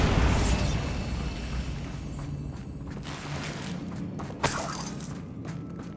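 A Bombarda blasting spell from Hogwarts Legacy bursts with a loud opening boom that rolls into a long, dense rumble, followed by a smaller sharp crack partway through.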